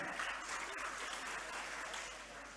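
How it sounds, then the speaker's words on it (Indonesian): Steady applause from a crowd at a Halal bi Halal gathering, dense clapping sustained throughout at a fairly even level, tapering slightly toward the end. "Tepuk tangan untuk PDM."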